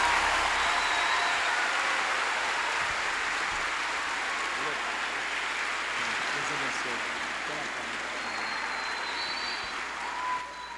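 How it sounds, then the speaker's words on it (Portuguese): Church congregation at an evening worship service applauding for about ten seconds, a dense, even wash of many hands clapping with faint voices and whistles mixed in, easing off near the end. "Aplauda ao Senhor e vamos adorar Regis"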